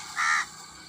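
A single harsh crow caw, loud and close, lasting a fraction of a second against a steady background hiss.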